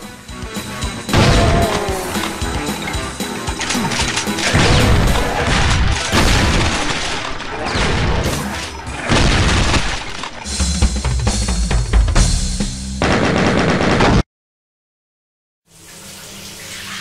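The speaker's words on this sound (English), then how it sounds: "Doom 2 may be a primitive first person shooter, but the immense shockwaves generated by this incredible weapon are still felt to this very day." Repeated booming shotgun blasts from the classic first-person shooter Doom 2 ring out loud and dense with game sound effects and music for about fourteen seconds, cut off by a brief silence before more game audio resumes.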